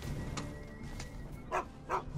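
Two short, fairly faint dog barks from Final Fantasy VII Rebirth, spaced a moment apart over steady game soundtrack and ambience.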